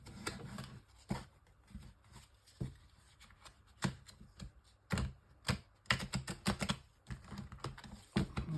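Oracle cards are shuffled and drawn by hand, giving irregular sharp snaps, flicks and papery riffles that come in scattered bursts, close and fairly soft, with no talking.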